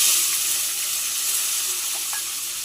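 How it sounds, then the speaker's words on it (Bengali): Tomato hitting hot mustard oil tempered with five-spice, a steady loud sizzle that hisses on without a break, with a few faint clinks of stirring near the end. "টমেটোটা দিয়ে দিচ্ছি তেলের ওপরে"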